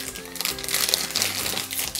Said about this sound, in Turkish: Kix bebeğimizi de poşetinden çıkardım